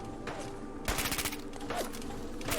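A gunner opens fire, with a rapid burst of gunshots cutting in after a steady background hum and continuing in uneven volleys, moderately loud.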